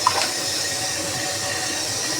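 Lasoora fruit tipped into a pot of water set to boil on the stove gives a steady, close rushing splash and bubbling that holds for about two seconds.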